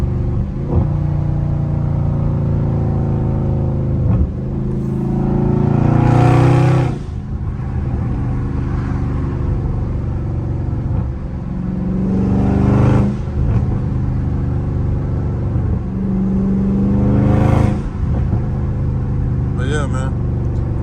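A Dodge Scat Pack with a loud exhaust is driven on a late-night drive, its steady engine rumble swelling into strong revving surges roughly three times, close and continuous throughout.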